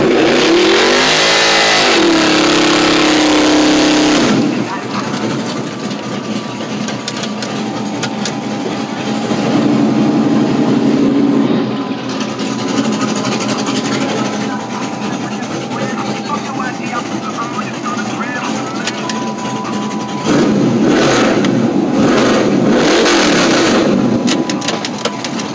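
An Audi A8 accelerates and revs on a street. The engine roars loudly in several surges over about 25 seconds and blends with other traffic noise.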